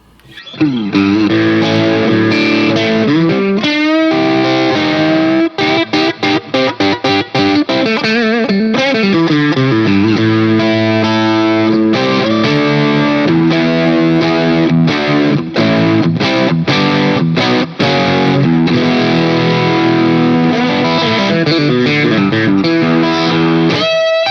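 A loud, continuously driven electric guitar with both pickups split plays distorted chords and riffs, with a gritty, slightly hollow tone sustaining throughout.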